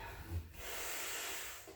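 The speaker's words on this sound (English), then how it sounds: "Ooh, some deep breathing." A single long, slow exhale during a side-lying Pilates exercise, soft and close, preceded by a brief sniff-like intake of breath, with no talk over it.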